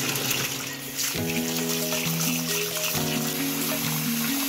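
Water runs and splashes as basmati rice is swished and rinsed in a vessel, with a clinking, ringing tone and sloshing throughout.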